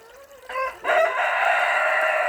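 Chickens in a farmyard give a brief tonal call, then a loud, sustained, crow-like call that runs to the end, close and clear with no talk.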